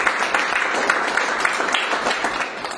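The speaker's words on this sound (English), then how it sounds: "They deserve a round of applause." A crowd at a news event applauds a national sports team, brisk continuous clapping at moderate loudness that tapers slightly toward the end.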